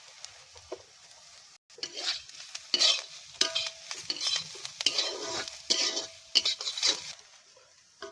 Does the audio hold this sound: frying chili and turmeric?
yes